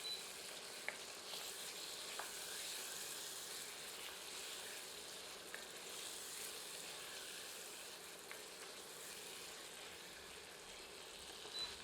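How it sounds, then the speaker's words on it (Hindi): Lahudar Murgh, a blood-red spicy chicken curry, fries steadily in a pan over medium heat, giving a continuous soft sizzle with occasional faint clinks of a ladle, quiet and even throughout. "आंच मध्यम करके इसे 5 मिनट भूनते हैं।"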